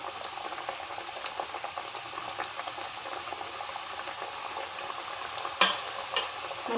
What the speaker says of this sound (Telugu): ఆయిల్ వేడెక్కిన తర్వాత ముందుగా రెడీ చేసి పెట్టుకున్న గోరుమిటిని ఫ్రై చేసుకుందాం.